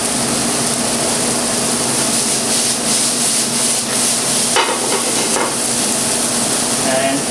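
Okra masala being stirred in a frying pan, a steady close sizzle of frying with scraping and stirring strokes running continuously, no talk.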